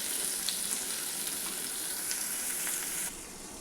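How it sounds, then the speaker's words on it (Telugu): Bitter gourd pieces sizzling loudly in hot oil in a pan, a dense continuous hiss with faint stirring scrapes, close up, the sizzle dropping abruptly near the end. "ఇప్పుడు ఇందులో మనం ఈ ఆకాకరకాయ ముక్కల్ని వేసేసుకోవాలి. వేసేసుకొని ఒకసారి చక్కగా కలుపుకోవాలి."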